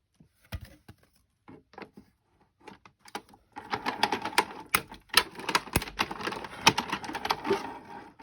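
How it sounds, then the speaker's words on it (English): A Cuttlebug die-cutting machine cuts out a section, starting with sparse clicks and knocks, then a dense run of rattling, crunching clatter as the plates pass through. "So here is my cuttlebug. I'm just going to cut out this section."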